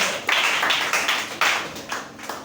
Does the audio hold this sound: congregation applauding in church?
yes